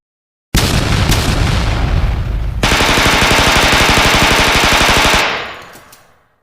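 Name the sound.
artillery barrage with explosions and gunfire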